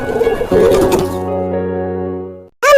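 A bird coos in an animated Hindi moral story, a few soft warbling calls followed by a sustained tonal note that fades out, with a short sharp sound at the end.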